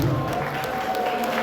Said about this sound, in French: Applaudissez pour Camarade Chépa.